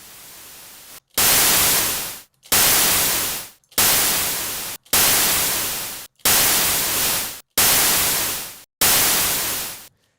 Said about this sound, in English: So I want to make a little downfalling noise.